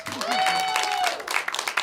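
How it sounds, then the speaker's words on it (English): An audience claps for a leadership panel at a company presentation, a short, full round of applause, while a voice briefly rises in a drawn-out call above it. "Let's give them a round of applause."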